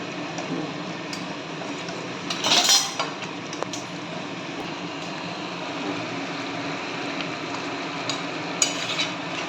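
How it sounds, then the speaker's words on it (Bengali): Kadai chicken with garam masala is stirred in a pan: a spoon scrapes and clinks against the metal, with one louder clatter over a faint background sizzle. "দিয়ে ভালো করে এটাকে নাড়ানাড়ি করতে হবে"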